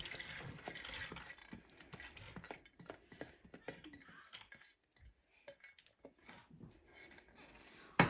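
Soaked chana dal tipped into a cooking pot with water, heard as a run of wet pours, small splashes and clinks of metal against the pot, close and fairly soft, ending in a sharp knock.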